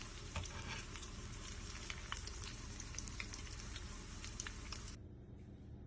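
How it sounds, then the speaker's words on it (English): Arancini rice balls deep-fry in a pot of oil at 350 degrees, giving a dense, steady sizzle with crackling pops throughout before it drops off sharply near the end. "now I have my love doing the frying for me"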